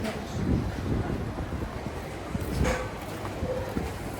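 Strong wind buffets the microphone by the water at Marina Grande harbour in Sorrento, a loud, continuous low rumble with gusts that swell and ease, and no clear voices above it.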